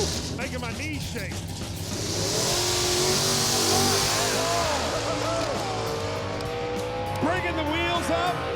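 A drag race car making a fast pass down the strip, its engine revving hard and rising in pitch as it accelerates away, with a crowd voice talking over the roar throughout.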